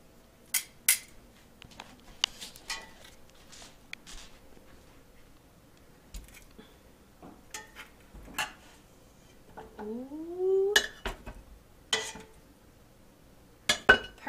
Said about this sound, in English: Next step is to put these bones into a crock pot.